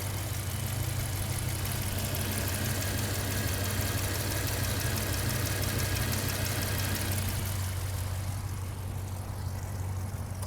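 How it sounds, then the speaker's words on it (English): A 2014 Jeep Grand Cherokee's Hemi V8 engine idles steadily and close up, a deep continuous rumble with a fine ticking texture, the upper hiss easing off toward the end. "I think you're getting a good listen to the engine at idle."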